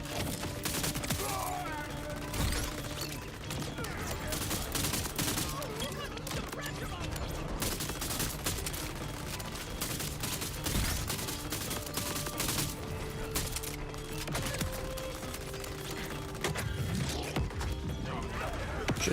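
Turret gunfire in a video game rattles in dense, near-continuous bursts with mechanical clanks over a steady backdrop, while people talk over it.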